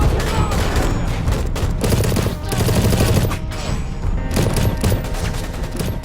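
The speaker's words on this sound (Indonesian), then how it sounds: "Lazar langsung melakukan serangan hingga terjadilah aksi tembak-tembakan" Dense, loud gunfire from an action-film gunfight rattles continuously, with rapid automatic bursts and heavier booming shots overlapping throughout.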